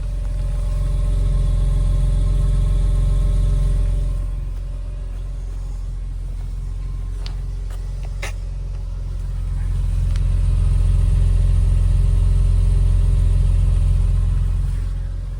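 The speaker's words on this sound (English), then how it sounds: "there's a good listen to what it sounds like when the engine is running" A car engine idles with a deep, steady exhaust rumble through dual exhausts with four tailpipes, swelling slightly louder at times, heard close to the pipes with a few faint clicks.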